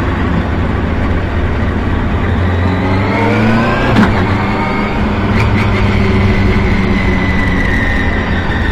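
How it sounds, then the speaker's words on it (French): Prototype race cars on a 2.5 km circuit at a racing event, engines droning steadily and loudly with rising pitch as they approach from a distance, with no talk over them. "Les autres protos qui arrivent là-bas."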